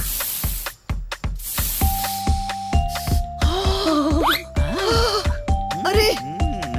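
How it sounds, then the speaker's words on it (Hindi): An itching spray disguised as a perfume bottle gives a few short hissing spray bursts, loud and close, mixed with cartoon sound effects, music and voices of animated characters talking. "वो खुशबू वाला नहीं बल्कि खुजली वाला स्प्रे था।"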